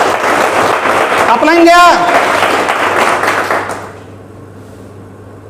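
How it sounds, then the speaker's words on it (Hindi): Audience at a network marketing training seminar claps loudly and steadily, a dense patter of hands that tapers off after about four seconds while a speaker's voice cuts across the middle. "एक बार जोरदार ताली बजा दो"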